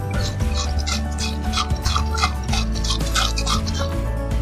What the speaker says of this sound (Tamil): இப்ப நான் நல்லா ஷேக் பண்ணிக்கிறேன். முதல்ல நம்ம மூடி போடாம கையாலே ஷேக் பண்ணிக்கலாம்.